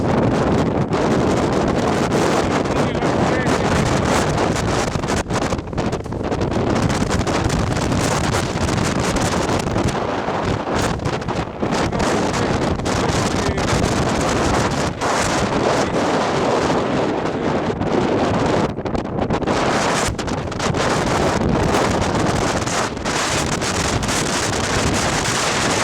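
Strong, constant wind roars and buffets the microphone on the exposed shoulder of Mist Mountain in the Highwood, a loud, unbroken rush throughout.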